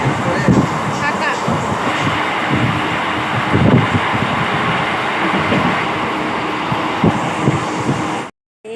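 Train heard from inside, a loud continuous rumble with rhythmic thumps of wheels over rail joints, close and steady until an abrupt cut near the end.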